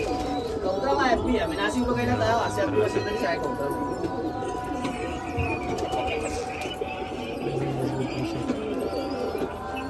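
Pigeons at a pigeon festival in Nashik coo in a steady, overlapping chorus with soft chirps, moderately close, while someone talks over them.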